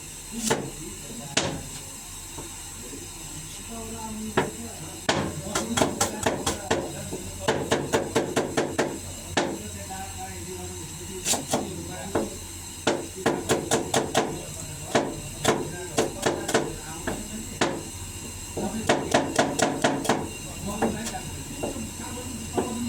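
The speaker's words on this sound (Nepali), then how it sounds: "यो अनियन हो, नेपालीमा प्याज हो। यसलाई कटिङ गर्न लाग्छ।" An onion is chopped on a board in a kitchen, with irregular bursts of sharp, rapid knife taps separated by pauses, close and fairly quiet over a faint background hiss.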